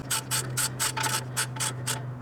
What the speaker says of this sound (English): So I'm going to go ahead and tighten that bolt just a little bit so it becomes a little stiff.